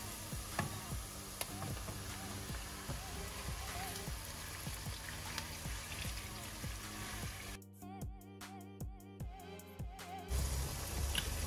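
Minced meat sizzles as it goes into a pan of sautéed onions for moussaka, a steady crackling fry with a few stirring clicks, fairly faint and close, over a low background hum.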